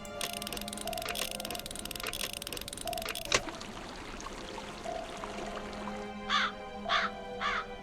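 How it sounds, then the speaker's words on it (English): A raven caws three times, harsh and fairly close, in the final seconds, over a background of trickling water and scattered clicks. "That sounds like a raven."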